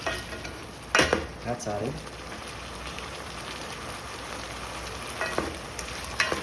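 Beef stir-frying with carrots and celery in a hot pan, a steady close sizzle broken by a few sharp clanks and scrapes of stirring near the start and end, with a brief spoken phrase.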